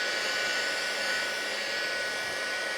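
Handheld heat tool blowing hot air over ink with mica on a craft card, a steady, close, continuous roaring whoosh that holds an even level throughout with no talking.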